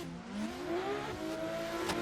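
Drift cars racing in a competition, a BMW leading with a Nissan S15 close behind, engines revving and whining in rising and falling tones, steady and fairly faint at a distance.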